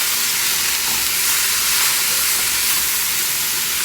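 Vegetables with caraway seeds sizzle loudly in a pan over high heat, a dense, steady frying hiss that continues unbroken throughout.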